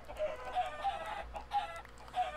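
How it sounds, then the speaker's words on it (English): Chickens clucking in Minecraft, a run of short soft clucks repeating every half second or so over a low steady background, fairly close and moderately quiet, with no talking. "I'll leave 4 chickens down here for now."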